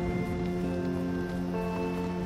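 Rain falls in the video game Death Stranding, a soft, steady patter spread evenly beneath a sustained, humming musical drone, with no voices.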